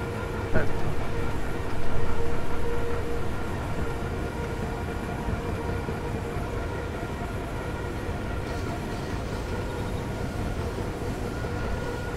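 Locomotive running in Trainz Railroad Simulator 2019 on a Central European route, a steady rumbling drone with tonal hum, a louder swell early on, then holding an even level throughout.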